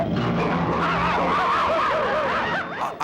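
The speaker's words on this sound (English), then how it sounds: "And then the car comes out and picks him up" A cartoon car speeds in with a loud, close engine whine and skidding squeal lasting a few seconds, with tones swooping up and down before fading slightly at the end.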